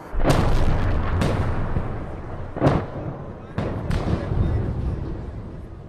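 Bombs exploding on the outskirts of a town in a film, five heavy booming blasts spaced about a second apart, each trailing into rumble, with voices murmuring faintly underneath.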